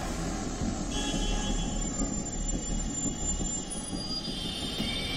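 Delhi Metro train running, a steady rumbling roll of wheels on track with a high, thin squeal from the wheels, heard from inside at constant volume.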